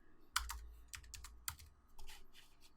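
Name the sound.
typing a value on a computer keyboard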